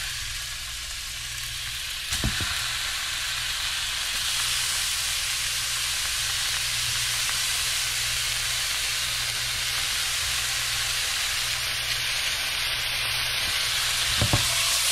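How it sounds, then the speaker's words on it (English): Seasoned fish fries in butter in a hot pan, a loud, steady sizzle and hiss running throughout, with a couple of brief clinks as the pan is shaken. "Give it a shake so all that butter gets on there and your fish doesn't stick."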